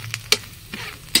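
Paratha frying in oil on a flat pan, giving a soft low sizzle broken by three short scraping or spattering bursts over about a second, with no talking.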